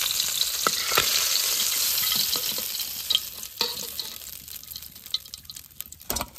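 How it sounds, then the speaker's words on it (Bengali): A hilsa fish head fries lightly in hot oil, giving a continuous crackling sizzle with scattered sharper pops throughout, close and alone with no voices. "বেশি ভাজবো না ইলিশ মাছের মাথা, হালকা ভেজে নেবো"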